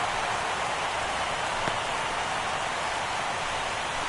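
Steady rain pours over a baseball stadium in a video game, a dense continuous hiss holding at an even level from start to finish, with no voices heard.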